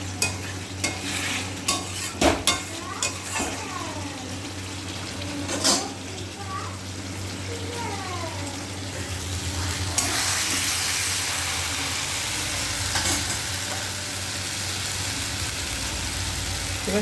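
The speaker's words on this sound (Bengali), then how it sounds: "এই যে আলুটা দিয়ে দিয়েছি এর মধ্যে, আলুটা একটু কষা হতে থাকে।" Potatoes sizzle steadily in a hot pan for a Bengali home-style curry with egg, while a spatula scrapes and stirs now and then. The frying hiss runs throughout and grows louder partway through, close to the pan.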